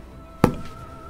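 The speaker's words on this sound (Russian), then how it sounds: "Взрыв." An underbarrel grenade launcher explosion in the Star Wars: Republic Commando video game: a single sharp, loud blast that cuts in suddenly, then fades into a brief rumbling tail, with no talk over it.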